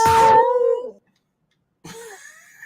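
A dog howls at the end of a gaming podcast's intro jingle, one drawn-out howl that trails off, followed by a pause and then a shorter second howl.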